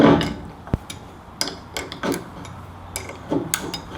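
A 13mm socket on a small bar and a spanner work bolts loose on a 40-tonne log splitter: close metallic clicks and knocks in an uneven rhythm, with no talking.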